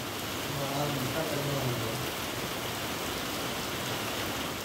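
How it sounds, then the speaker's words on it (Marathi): Light rain shower falling in Mangalwedha, Solapur, after a hot day: a steady, even hiss of rain on surfaces that stays constant throughout, with faint murmur of voices early on. "त्याच्यातच हाकेला अखेर पाऊस धावून आला"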